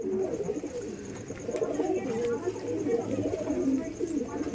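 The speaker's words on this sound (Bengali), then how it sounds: "ও এটা মেন বিডার পায়রা দাদা" Pet pigeons in a fancier's loft coo in low, soft repeated rolls close by, with a steady murmur of birds in the background.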